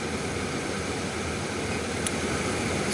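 A 1996 Lexus ES300 blower motor fan runs at high speed, giving a steady, dense rush of airflow with an even whir that holds constant throughout, with no pauses and no talking.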